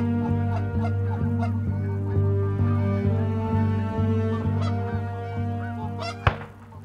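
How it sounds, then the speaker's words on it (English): A flock of about 15 geese honk loudly together as they fly in during a hunt, overlapping calls over a steady low hum, with one sharp knock near the end. "we got a group of 15 geese coming into us"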